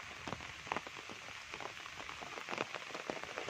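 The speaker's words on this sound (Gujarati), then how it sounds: "અને વરસાદ પાછો આવી ગયો।" Rain falls on a surface at a farm, a steady soft patter with scattered distinct drops, moderately quiet and with no talking.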